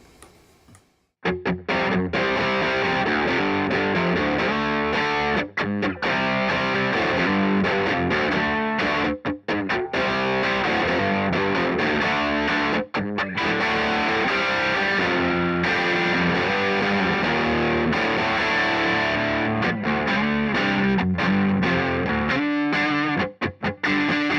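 A dry, heavily distorted electric guitar through an Orange Micro Dark or Peavey 6505 Piranha amp with reverb off plays chugging chords and riffs continuously, loud and close, with no echo trailing the notes.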